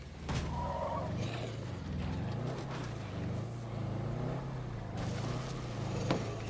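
A damaged car driving in State of Decay 2, a steady engine drone with shifting pitch as it revs and slows, with rough scraping and skidding bursts at the start and near the end, no talking.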